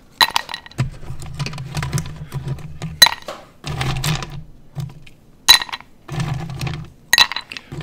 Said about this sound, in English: we're going to add fresh ice to our rocks glass.